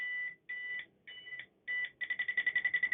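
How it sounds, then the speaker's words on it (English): A non-contact voltage tester beeps close by, first in four slow electronic tones and then in a quick run of rapid pulsing beeps. "this one actually beeps at a couple different rates, depending on how close you get to the voltage"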